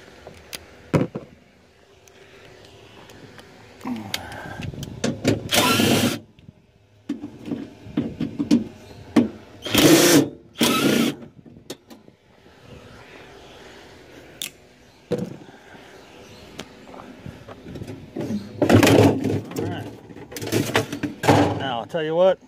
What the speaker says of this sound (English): we're gonna grab this panel, give it the old rip.